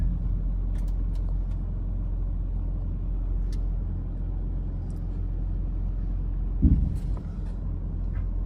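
A 2003 Toyota Land Cruiser crawls along in low gear with a steady, deep engine rumble from inside the cab and a brief bump near the end.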